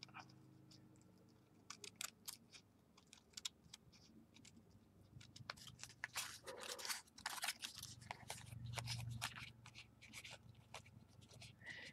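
Scissors cutting material for a beaded ornament cover: a string of quiet close-up snips and crunchy cuts, irregular in rhythm, with soft handling rustle and a faint low hum behind.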